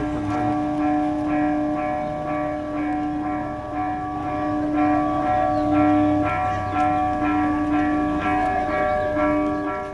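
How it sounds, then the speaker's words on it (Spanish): Church bells of Tepexco ring out loudly in repeated strikes, their metallic tones overlapping and sustaining in a continuous, resonant peal. "Son las campanas de Tepesco, cuyo sonido sirvió como señal de alerta para los pobladores de este municipio"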